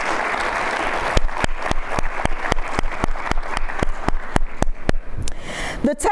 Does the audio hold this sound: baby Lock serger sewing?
no